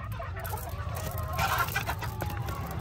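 Chickens cluck and murmur close by in a farm pen while being fed alfalfa, with a steady, busy flock chatter and a brief louder squawk in the middle.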